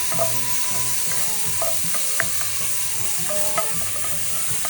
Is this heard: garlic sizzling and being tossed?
yes